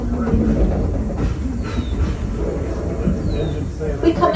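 Train ride in motion, a continuous low rumble and rattle of the moving cars with faint squeals and clicks, while people talk over it.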